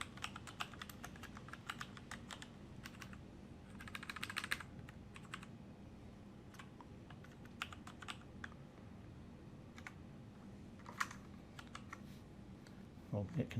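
Computer keyboard typing while entering program code for a digital input limit switch, with brisk irregular clusters of key clicks close by over a low steady background hum, and a brief louder burst of keystrokes near the end.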